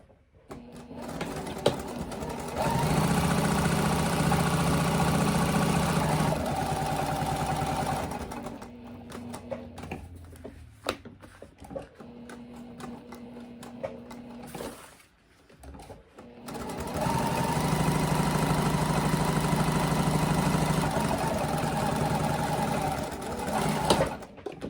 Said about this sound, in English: I want to stitch right down both sides of this edge